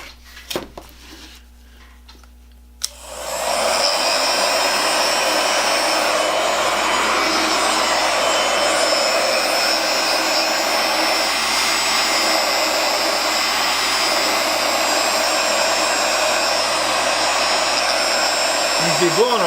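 A Master heat gun switches on after a few faint clicks and blows with a loud, steady whooshing fan roar that holds unchanged for the rest of the clip, close by, no talking.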